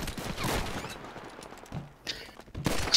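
Gunfire in the Grand Theft Auto V video game: a few sharp bursts of shots, one early and a cluster near the end, separated by quieter gaps, fairly faint overall.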